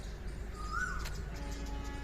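A bird gives a single short, clear chirp midway through, set against a steady low background hum with faint outdoor noise.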